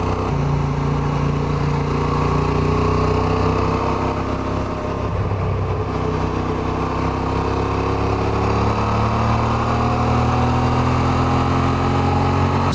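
Motorcycle riding along a country departmental road in Périgord, a steady mid-pitched engine drone with wind noise, constant and close throughout with only slight shifts in pitch.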